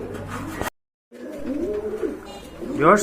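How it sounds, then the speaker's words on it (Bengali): Pigeons at a pigeon market coo close by in short, throaty bursts, with a cut near the start and a louder coo at the end. "কবুতরগুলো আপনাদেরকে দেখাই এবং দাম দর সম্পর্কে জানাই"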